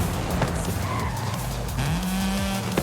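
Race cars in Forza Horizon 5 rumble steadily close by, engine tones rising and falling through gear changes, with a brief tire squeal partway through and no talking.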